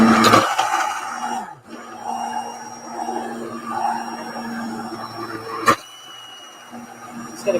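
A blender purées spiced carrot soup with a steady, close whirring drone that dips for a moment and then carries on evenly.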